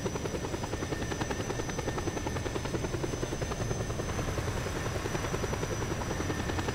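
Helicopter rotor chop and engine whine in the video game Just Cause 2, a fast steady pulsing beat with a high hum, continuous and fairly close throughout.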